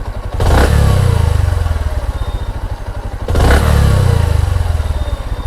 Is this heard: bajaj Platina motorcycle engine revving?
yes